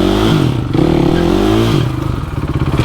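A supermoto motorcycle revs loudly and pulls away up close, its engine note climbing and dipping in a rough, throaty roar.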